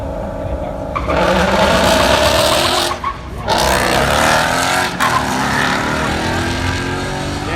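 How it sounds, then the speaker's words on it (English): A Ford Mustang GT S550 launches at a drag strip, its engine roaring loud and close while the rear tires chatter and squeal with wheel hop, brief gaps breaking the sustained noise. "the number 4 thing that I hate about my car is the dang wheel hop that comes with it"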